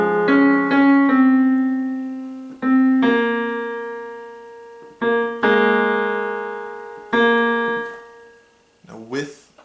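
A piano plays the right-hand part of a song from Over The Garden Wall, a slow melody of separate struck notes and short chords that ring and decay between attacks, alone and close, with a brief voice at the end.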